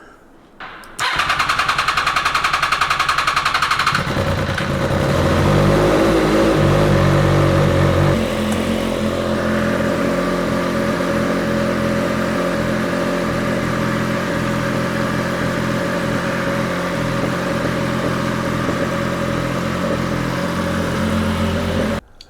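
An MV Agusta F3XX track motorcycle engine cranks and fires, revs briefly, then settles into a loud, steady close-up idle with no voices.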